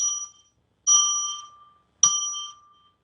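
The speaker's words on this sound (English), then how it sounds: "I'm going to ring a bell 3 times now" A hand bell rung three times in a ritual opening sacred space by candlelight, three separate bright ringing strikes spaced about a second apart, each decaying slowly with no talk.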